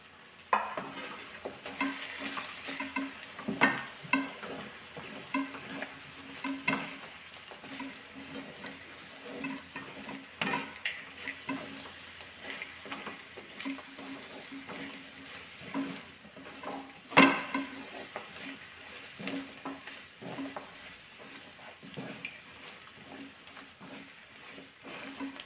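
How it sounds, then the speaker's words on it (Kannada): Cumin, cloves, pepper and poppy seeds fry in a pan, a soft continuous sizzle broken by repeated scraping clicks of a spoon stirring against the metal. "ಇದನ್ನು ಒಂದು 2 ನಿಮಿಷ ಫ್ರೈ ಮಾಡಿ ನಾವು ಮಿಕ್ಸಿಯನ್ನು ಮಾಡ್ಕೊಳ್ಳೋದು."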